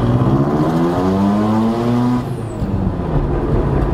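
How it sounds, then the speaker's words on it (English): A Mazda RX-7 FD rotary engine, heard from inside the car, revs loudly and rises steadily in pitch while accelerating, then drops and settles as the gear changes. "Man, rotary sounds so good."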